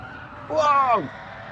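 A race car in Gran Turismo 7 skids and scrubs its tyres into a barrier, a brief rising and falling squeal lasting about half a second over a low engine drone.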